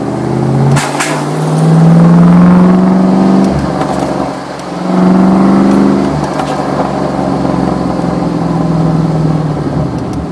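A car engine labors in second gear, a loud, steady drone that swells twice into strained, rising pulls before easing back.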